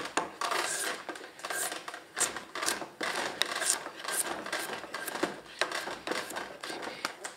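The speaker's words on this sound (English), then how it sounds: "I'm just gonna follow the smooth, and then shave away all that excess material as I go." Kiln-dried wood is shaved by hand while shaping a chair part, producing a steady run of rasping, scraping strokes close up that repeat in quick uneven rhythm.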